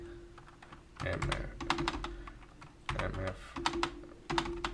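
Bursts of rapid clicking on a computer keyboard come in short clusters with pauses between them, heard close over a steady low electrical hum.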